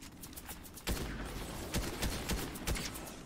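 Bursts of gunfire from the video game Fortnite crackle in quick irregular succession over a dense, noisy game mix, several sharp reports standing out near the end.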